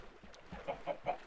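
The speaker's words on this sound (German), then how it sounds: "Ah, ein Huhn." Chicken in the Minecraft video game, a few soft, quick clucks in a short rhythmic run, faint and brief against a quiet background.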